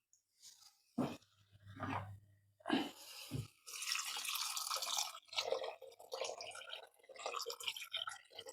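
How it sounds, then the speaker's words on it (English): Water poured into a pan of well-fried rabbit and onions, with a bubbling rush and crackling sizzle that builds and runs steadily for several seconds, close and fairly loud, no talking. "my rabbit and onions are now well fried, so I'm going to add some water"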